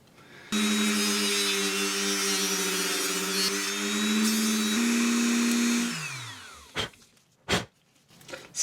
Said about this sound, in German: Jetzt noch gleich schleifen.